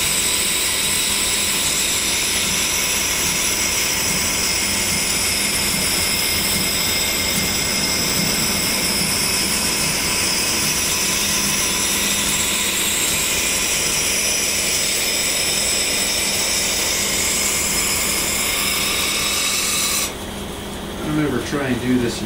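A belt grinder wet-grinds a knife edge, a loud continuous whirring rasp held steady for about twenty seconds before it cuts out near the end.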